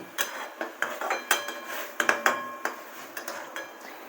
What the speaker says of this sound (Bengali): ডিমগুলো দিয়ে দেওয়ার পর আমি খুব ভালো করে পেঁয়াজগুলোকে ডিমের সাথে এইভাবে মাখিয়ে নিচ্ছি।